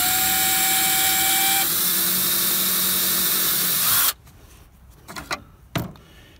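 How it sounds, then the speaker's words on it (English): A power drill whines loudly and steadily while punching pilot holes during box-mounting fabrication work, its pitch stepping down partway through before it stops, followed by a few faint clicks and knocks. "Okay, so now we just go ahead and punch pilot holes."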